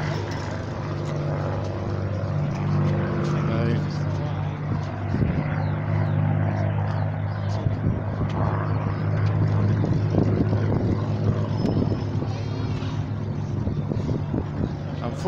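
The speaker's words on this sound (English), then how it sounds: "Spitfire's still flying around." A Spitfire flies at the 2019 Edinburgh, South Australia air show, its propeller engine making a steady, low droning rumble that stays fairly constant across the whole stretch.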